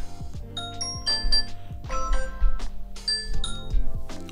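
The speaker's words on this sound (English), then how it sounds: "You can also choose a doorbell sound." A Ring doorbell chime played through an Amazon Echo Pop smart speaker: a bright, ringing melodic sequence of bell-like tones repeating in several short phrases, clear and close with no talking.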